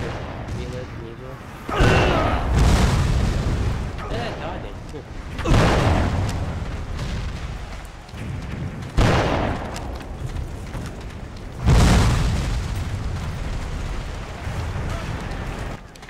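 Civil War cannon and rifle fire in a PlayStation 2 video game: four heavy booms land a few seconds apart, each trailing into a rumbling battle din, with voices faint underneath.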